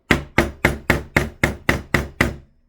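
Eight sharp hammer blows drive staples into canvas stretched over a frame, landing in a steady, even rhythm, each a loud close knock that quickly decays, with no voices.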